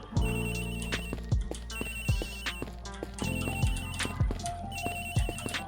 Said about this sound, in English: Agent Hicks's phone is ringing from somewhere, sir.